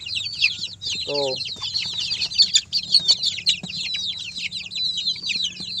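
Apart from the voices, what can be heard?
Bangkok/kampung chicken chicks clucking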